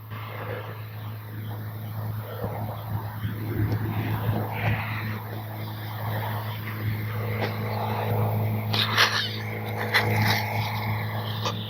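A small radio-controlled model airplane, an X-Fly Twinliner twin-engine, drones steadily nearby with a constant engine whine, and faint voices and outdoor noise mix in beneath it.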